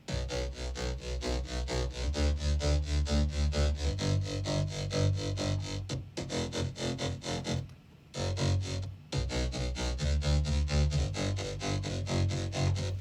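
A loud, punchy synth bass plays a rhythmic pop line on its own, pausing briefly near the middle before resuming.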